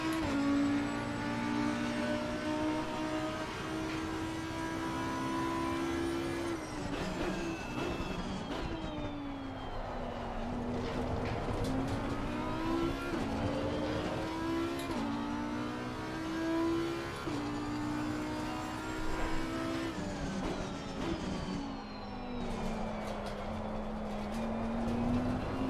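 A race car engine in Assetto Corsa Competizione, pushed into power oversteer, roars loud and steady, its pitch rising and sagging as the throttle is worked through the slide, with no talk.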